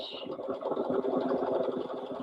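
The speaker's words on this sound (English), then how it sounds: "It's going to stitch this side first." A sewing machine runs steadily while stitching a handmade stuffed bear, its needle chattering in a fast, even rhythm close by for a couple of seconds with no talk over it.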